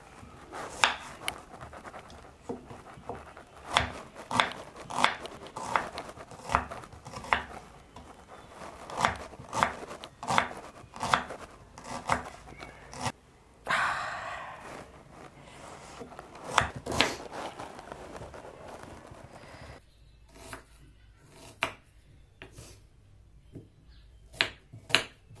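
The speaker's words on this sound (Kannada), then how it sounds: "ಈಗ ಎಲ್ಲ ಈರುಳ್ಳಿನೂ ಹೆಚ್ಕೊಂಡ್ಬಿಡ್ತೀನಿ." Three medium onions being chopped with a knife on a board for an egg fry, a long run of crisp, regular knife taps with a brief pause midway, close and quiet, no talk.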